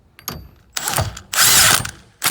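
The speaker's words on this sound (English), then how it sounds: "then we're gonna use our impact and make sure it goes on" An impact wrench tightens the bolt on an NRG steering wheel hub in a 2005-2014 Ford Mustang, firing loud, close bursts of rattling hammering separated by short pauses, with the longest burst near the middle.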